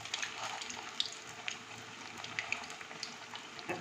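Maggi omelet pakoras in batter frying in hot ghee, a soft steady hiss and crackle with faint scattered pops, fairly quiet and alone.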